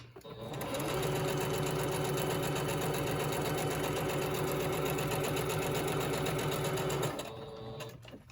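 A sewing machine runs a long straight stitch while crafting a Christmas project, a steady fast mechanical whir with rapid needle rhythm that starts up, holds loud and even for about six seconds, then stops.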